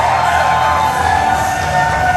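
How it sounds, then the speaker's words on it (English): A large crowd at a Small Town Throwdown championship event roars and cheers continuously as the champion Sean Nelson makes his entrance, a loud, sustained, shrill wall of voices. "There's the champ, and the crowd erupts."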